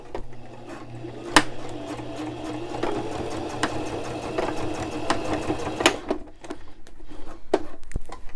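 A sewing machine stitches crib sheet fabric in a steady, close mechanical whir, with sharp clacks at intervals and a brief pause before the motor resumes.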